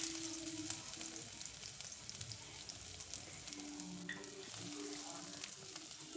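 Chopped ginger and garlic sizzling in hot sunflower oil in a pan, a steady dense crackle and hiss that holds evenly throughout, close and continuous, with occasional faint stirring and no voices.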